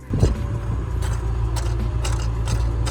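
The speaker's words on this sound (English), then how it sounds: "The sound of an angry small engine in the back sold me immediately" A small mid-engine roadster's rear-mounted engine idles and revs with a rough, throaty low rumble, steady and close, with faint rattles over it.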